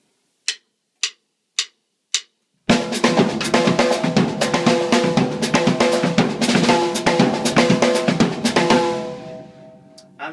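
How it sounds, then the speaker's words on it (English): Drum kit playing a samba pattern after four stick count-in clicks: a fast, dense, loud stream of driving hits with steady hi-hat and bass drum pulse, close and alone, fading out with ringing cymbals. "So the samba pattern sounds something like this."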